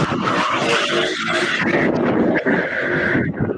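A race car accelerates hard, its engine note rising and then audibly shifting from first into second gear, loud and close over a constant roar with tire and skid noise throughout.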